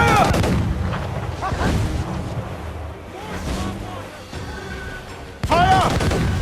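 Ship cannons fire during a naval battle at sea in Assassin's Creed Freedom Cry, with four heavy booming volleys spaced a second or two apart over rolling water noise and shouted voices.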